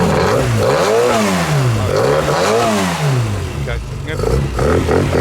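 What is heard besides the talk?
classic Mini race car engine revving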